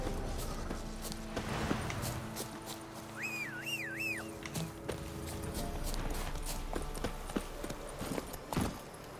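Horse hooves clip-clop steadily at a walking pace in The Witcher 3 video game, moderately close, with a brief whistling melody and other game sounds mixed in.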